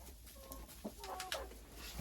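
Faverolles hen giving a few soft, brief clucks, fairly close and fairly quiet over low background noise, with small knocks and rustles around it.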